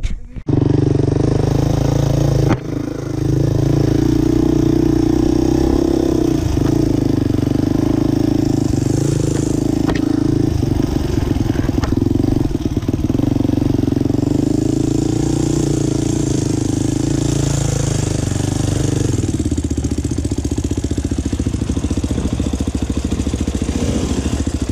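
A motorcycle engine runs continuously at a steady idle, a loud, close mechanical chug with a brief dip near the start and slight revving variations.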